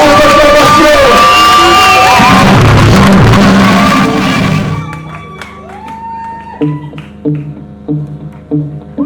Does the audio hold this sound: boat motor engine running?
no